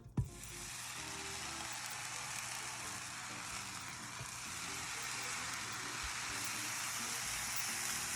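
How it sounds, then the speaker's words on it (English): Buttered sloppy joe buns toasting on a hot griddle hiss in a steady, broad, even sizzle that holds throughout. A small clack comes at the start, with no talking. "So let's go ahead and put those in the griddle."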